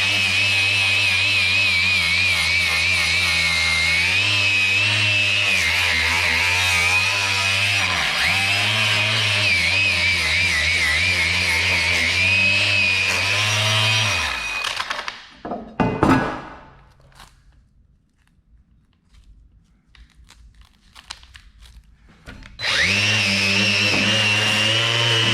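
A power tool fitted with a Scotch-Brite surface conditioning pad whines steadily and loudly against a rusty vice, cuts off and spins down into near silence with small clanks, then starts up again.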